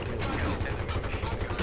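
Gunfire in the shooter game Battlefield 3: a steady, dense rattle of rapid automatic shots at moderate level, under a busy game mix.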